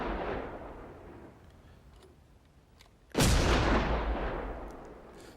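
Gunfire from the film Boyz N the Hood: after a quiet stretch, a single loud, close shot bursts out and rings into a long, decaying rumble.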